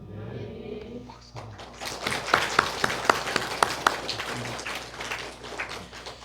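A church congregation at an Easter Sunday service breaks into clapping after a brief spoken moment, with a burst of sharp, close claps that settles into steady applause.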